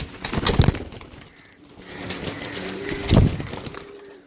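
Pigeons handled at a bird seller's in Shahdara, Lahore, with wings flapping and rustling in short bursts and soft cooing close by, without talk.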